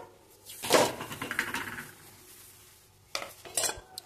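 A jaggery filling is stirred and mixed in a bowl for gulpoli, with a loud clatter of a spoon against the vessel, then quieter scraping and two later bursts of clinking, close up with no talk.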